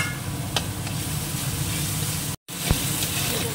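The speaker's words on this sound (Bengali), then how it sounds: "পেঁয়াজটাকেও ভেজে নেবো একসঙ্গে, আদা রসুন সব কাঁচা মশলা ভেজে নেবো।" Ginger, garlic and green chilli paste frying in a pan, a steady close sizzle running throughout with a brief break near the middle and a few faint utensil taps.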